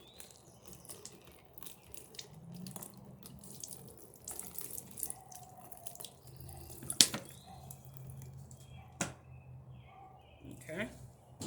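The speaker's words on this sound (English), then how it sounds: "Then I'm just going to take this water and then wash it off" A tap runs as water rinses paint off a ceramic tile, giving a soft splashing flow with scattered drips and clinks. A brief sharp spike comes midway, and it plays fairly faint in a quiet room.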